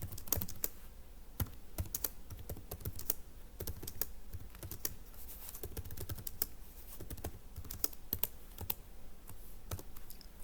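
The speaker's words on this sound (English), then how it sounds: "you're going to type in" Fingers tap away at a computer keyboard in a steady stream of quiet, close clicks, with occasional louder key strikes and no talking.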